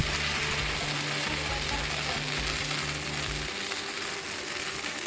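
Sabudana dosa fries on a hot tava griddle with a steady, even sizzle over a low background hum, close and fairly soft, with no voices.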